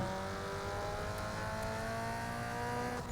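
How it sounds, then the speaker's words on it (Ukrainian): A turbocharged car engine in Need for Speed Underground 2 drones steadily with a rising, revving tone and a faint turbo whine on top, loud and continuous without speech. "О, з турбонадомом краще фуречить автомобіль."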